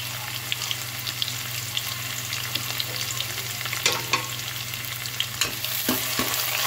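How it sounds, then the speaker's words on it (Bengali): Salted onion fries on low heat in a pan for a Bengali catla fish dish, a steady close sizzle broken by occasional sharp clicks of stirring over a faint hum. "পেঁয়াজটা নরম হওয়া পর্যন্ত পেঁয়াজটাকে আমি ফ্রাই করে নেব"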